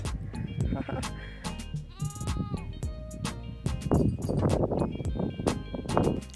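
Goats bleat in a backyard in Nairobi, Kenya, where they graze alongside zebras, with several wavering calls rising over rustling and a talking voice throughout.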